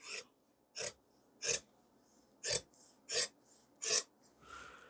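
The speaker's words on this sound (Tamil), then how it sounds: "மார்க்லேயே கட் பண்ணிடலாம்" Scissors cutting trouser fabric along a marked line during pant tailoring, six crisp separate snips in an uneven rhythm, close and quiet with no talking.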